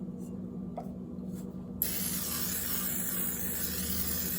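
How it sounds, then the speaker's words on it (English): A continuous hiss of olive oil being sprayed over vegetarian taquitos before air frying, starting suddenly after a few faint taps and holding steady, close and moderately loud. "I'm going to give all of this a generous spray of olive oil"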